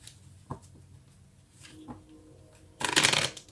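Tarot cards are handled with a few soft taps and slides, then a brisk riffling shuffle bursts out near the end, close and clear with no talk.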